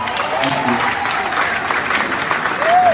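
A crowd claps steadily for a 25 million naira donation at a Catholic church gathering, loud continuous applause with a voice briefly rising over it.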